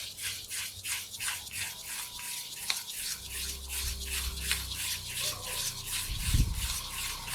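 An egg is whisked into flour for cookie dough, giving rapid, even, close scratchy strokes in a regular rhythm that continue throughout, with a few faint bumps.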